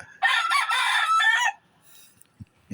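A rooster crows once in the morning by the sea, loud and close, a single drawn-out call lasting over a second, followed by quiet with a couple of faint knocks.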